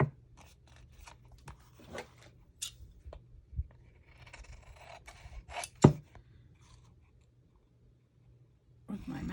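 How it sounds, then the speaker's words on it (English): Large shears trim a paper craft piece with a series of quiet, close snips and clicks at an irregular pace, plus one sharper cut midway. "With my massive shears here."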